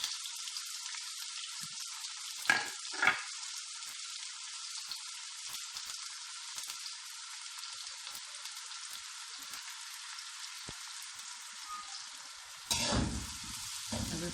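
Pumpkin pieces fry in hot oil in a kadai, giving a steady, close sizzle with a couple of sharp clatters early on and a louder stirring scrape near the end. No one talks.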